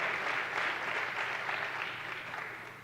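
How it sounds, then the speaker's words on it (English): Audience applause at a school tech and wellness day event, a dense steady burst of clapping from a crowd that holds level and tapers slightly toward the end, with no speech over it. "give Jessica a big round of applause"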